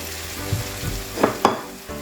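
Crayfish sizzle and fry in a pan with cooked bell peppers, a steady crackling hiss broken by a few clattering stirs and tosses.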